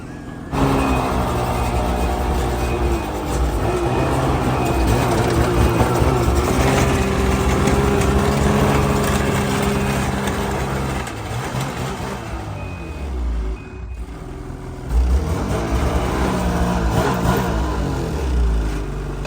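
A 2013 snowmobile engine is backed off its spot, running loudly and steadily with rising and falling revs and a brief drop in power midway.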